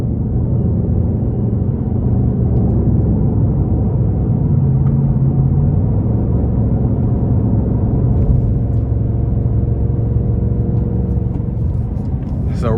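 A 2025 Ford Mustang Dark Horse Premier in sport mode gives a loud, steady low engine rumble and road drone, heard from inside the cabin throughout.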